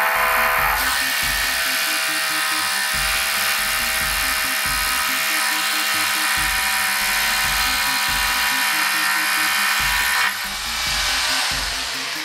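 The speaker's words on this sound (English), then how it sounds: "you just take your SDS drill" An SDS hammer drill grinds loudly and continuously into concrete, its pulsing rattle steady for about ten seconds before easing off near the end.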